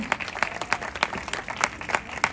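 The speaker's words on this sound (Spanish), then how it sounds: "Aplausos, bienvenida Karen." Studio audience applauding a television executive producer, with sharp, distinct claps repeating in a quick, fairly regular rhythm, fairly close and lively.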